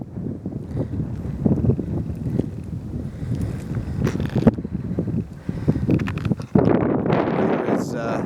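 Strong winter wind buffets the microphone outdoors on a frozen lake during a solo ice-fishing trip, a steady low rumbling roar with stronger gusts throughout.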